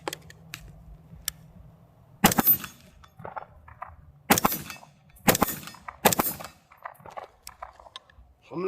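AR-15 rifle fired at targets outdoors, several loud sharp cracks spaced irregularly a second or so apart, each with a brief echoing tail, nearby and unaccompanied by talk.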